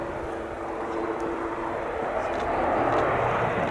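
A German Air Force Airbus A400M making a tactical departure at an air show, a continuous loud engine and propeller roar that swells slightly as it climbs away.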